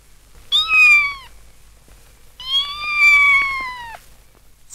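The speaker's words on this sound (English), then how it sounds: "A furry grey kitten with a big fluffy tail." A furry grey kitten meows twice, each call a clear, drawn-out high-pitched cry with a falling tone, close and alone against a quiet background.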